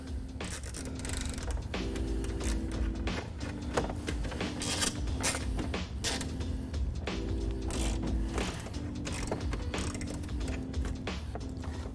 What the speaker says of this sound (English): I'm actually just using a 5/16 12-point socket